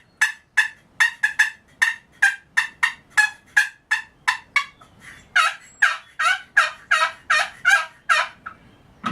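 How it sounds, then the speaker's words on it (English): Repeated rapid gobbling calls from wild turkeys, loud and rhythmic, dozens of quick rattling bursts in a steady stream, with no talking. "And turkey gobble."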